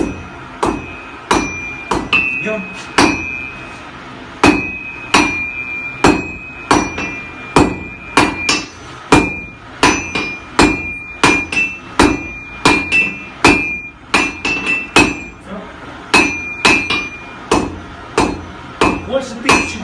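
A blacksmith's small hammer strikes steel heated past 1000 degrees, shaping a horseshoe at a forge near Minsk, with dozens of sharp ringing blows in a brisk, steady rhythm and a brief spoken word.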